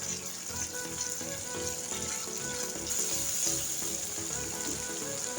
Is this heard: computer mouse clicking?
no